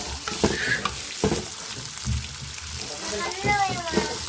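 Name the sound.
frying peanuts, dried chillies and seeds in a pan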